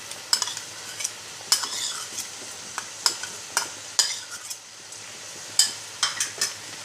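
Green chilies fry in oil for chicken karahi under a soft sizzle, punctuated by repeated sharp metallic clinks of a spoon stirring against the pan at an irregular rhythm, close and clear, with no speech.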